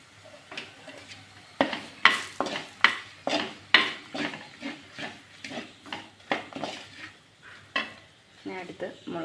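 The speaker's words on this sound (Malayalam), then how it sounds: "ഇത് കരിയായിട്ട് നന്നായിട്ടൊന്ന് ഇളക്കി കൊടുക്കുക." A spoon stirs spice masala frying in a pan for a roasted-coconut fish curry, giving steady rhythmic scrapes and clinks over a soft sizzle, close and fairly loud, with no talking.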